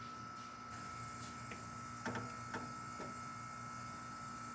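A new 2023 Ruud Achiever Endeavor Line downstairs air conditioner running quietly, a low steady hum with faint airflow hiss and a few soft clicks, heard close and alone.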